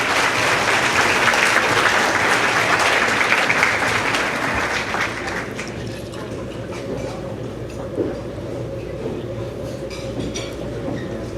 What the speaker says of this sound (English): I'm going to let you clap right now for Grace Weezar.